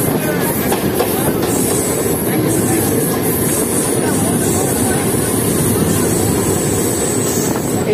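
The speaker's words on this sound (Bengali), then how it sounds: "আমাদের সঙ্গে দেখা হয়ে গেল ফারাক্কা এক্সপ্রেসের।" Farakka Express rushes past close by, a loud continuous roar of rolling wheels and rattling railcars with clickety-clack and faint squeals, lasting throughout.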